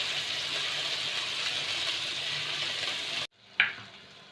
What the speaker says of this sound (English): Let it cook on medium to low heat.